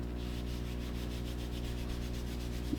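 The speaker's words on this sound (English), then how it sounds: "I'm going to rub it from the back." Someone rubs the back of a handmade paper Christmas ornament card to finish it, making a steady, rhythmic scraping rub over a constant low hum, close up and continuous.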